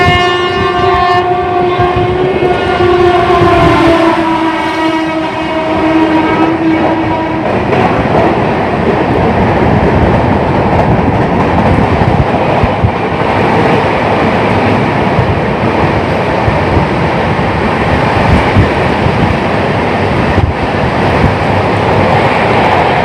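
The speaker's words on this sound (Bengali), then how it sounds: "এক্সপ্রেস আমাদেরকে আবার ওভারটেক করে চলে গেল।" An express train rushes past on a parallel track, opening with a long horn blast and then a loud, steady roar and rattle of wheels and carriages close by for the rest of the clip.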